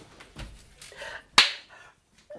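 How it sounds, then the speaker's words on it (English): A single sharp, loud hand clap stands out from a quiet room, preceded and followed by faint shuffling and small sounds. "I shouldn't clap."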